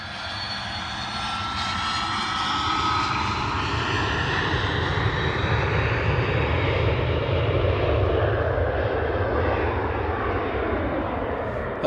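An airplane takes off at Manchester Airport, its engines building into a loud continuous roar with a rising whine that sweeps and slowly fades as it accelerates away.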